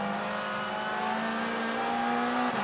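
A touring car at a 2016 World Touring Car Championship practice session in Slovakia accelerates out of a corner. Its engine gives a loud, close, continuous roar that climbs steadily in pitch, then dips briefly near the end as it shifts gear.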